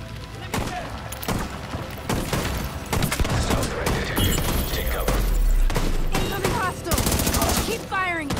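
Rapid automatic gunfire in the video game The Division 2, with sustained bursts and sharp cracks from several weapons in a firefight, loud and continuous, mixed with shouted voices and ricochet-like whines.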